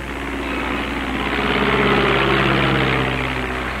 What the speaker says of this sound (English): And so we must test our Auster aircraft on the water and in the air.